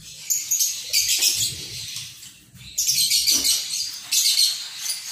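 A green leafbird (cucak ijo) at a breeding farm chirps in three bright, close bursts of rapid twittering, separated by brief quieter gaps with a faint low background murmur.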